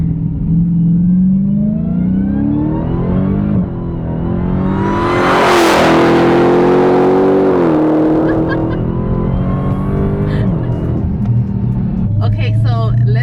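A Dodge Challenger Hellcat Redeye engine roars loud and close through a full-throttle pull, its pitch rising through the gears with brief shift dips, and a voice talks over the engine near the end.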